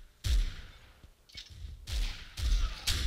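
Bursts of automatic machine-gun fire in the shooter game AssaultCube during a team deathmatch, several sharp, loud volleys separated by brief pauses, with a few smaller shots in between.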